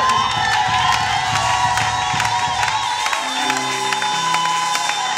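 A church congregation at a prophecy seminar in Belgium cheers and shouts in acclaim, a dense sustained roar of many voices with whoops, thinning slightly toward the end as a held musical tone comes in underneath.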